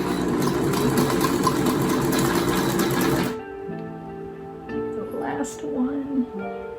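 Sewing machine back stitching a t-shirt dress made from band t-shirts, running steadily and loudly up close for about three seconds, then stopping, followed by quieter handling noises and faint motor hum.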